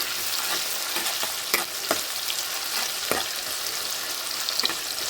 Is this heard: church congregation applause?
no